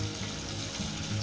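Steady sizzling and frying from a pan of fish-head vegetable curry as tomato goes in, a continuous close hiss with no talk over it.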